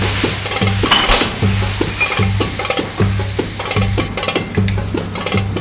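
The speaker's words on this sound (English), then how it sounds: "I'm going to add a bit of red chilies. I'm going to add the garlic." Garlic and red chilies hit a hot pan with a loud, continuous sizzle, joined by regular scraping strokes of a utensil against the metal at a steady, rhythmic pace.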